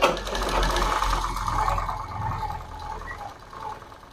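A sewing machine runs continuously as it stitches lace onto a half saree, a steady close mechanical whir that fades slightly toward the end.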